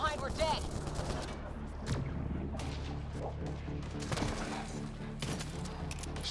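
Enemy gunfire in the sci-fi shooter game Mass Effect Andromeda, a steady crackle of rapid shots and impacts layered under combat noise and talk.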